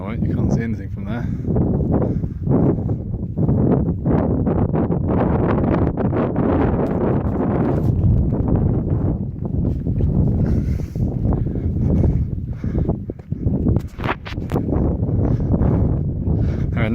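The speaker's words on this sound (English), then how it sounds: "but be warned, it's extremely windy" Strong wind batters the microphone on Dartmoor moorland, a continuous loud, roaring rumble with gusts rising and falling throughout and no break in the buffeting.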